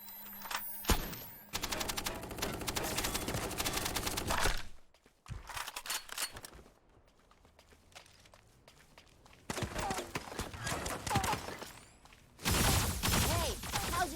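Bursts of mech machine-gun fire in the video game Super Mecha Champion, loud and sustained, broken by a brief lull before heavy firing resumes.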